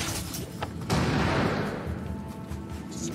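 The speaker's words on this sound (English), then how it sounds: "Explosions." A deep explosion in the video game Prince of Persia: The Lost Crown booms amid other muffled blasts and rumbling, its roar lingering and slowly dying down.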